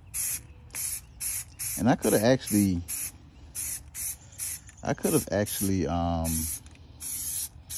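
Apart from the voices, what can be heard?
spraying peel coat paint on Audi A7 rim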